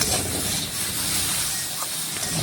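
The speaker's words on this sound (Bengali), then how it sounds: "একদম ভেন্ডিটা একটু শুকনো শুকনো করে ভেজে নিচ্ছি" Okra (bhindi) dry-frying in a pan on a home stove gives a steady, even hiss that holds at one level throughout, with no talk over it.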